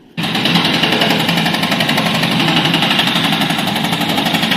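Street drilling in North London, a loud, close, continuous rapid hammering drone that starts abruptly after a brief quiet moment and holds steady throughout.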